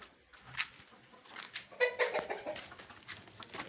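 Two hens sitting in a backyard coop cluck softly, with short, uneven calls heard close by and fairly faint over light background noise, and a brief burst of louder clucking midway.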